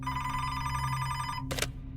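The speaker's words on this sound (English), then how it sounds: "her phone rang" A telephone rings for about one and a half seconds as a podcast sound effect. The steady tone is clear and close, then cuts off with a short burst of noise.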